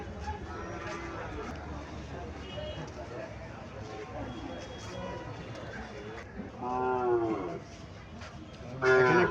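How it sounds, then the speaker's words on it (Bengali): A Sahiwal heifer calf and other cattle moo loudly at a busy cattle market in Chandimura, Comilla, with one long close moo near the end. Buyers and sellers chatter throughout. "এখানে একটা বাছুর দেখা যাইতেছে"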